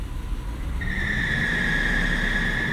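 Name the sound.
Mercedes 420 SEL engine starting and revving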